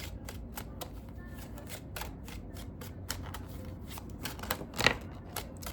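Tarot of the Divine cards shuffled by hand, a quick series of close, crisp riffling bursts in steady rhythm, with one sharper snap near the end.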